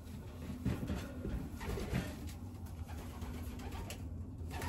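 A blue bar white light racing pigeon, a 350-mile race winner, coos faintly in a steady low murmur, heard alone without talk.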